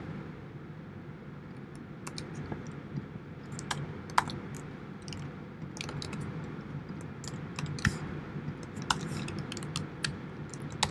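Steady typing on a computer keyboard, with quick irregular key clicks and occasional sharper taps over a low room hum, with no talking.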